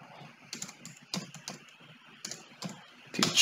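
Computer keyboard typing, a sequence of crisp individual key taps in irregular clusters with short pauses, close and fairly quiet, ending in a louder flurry of keystrokes.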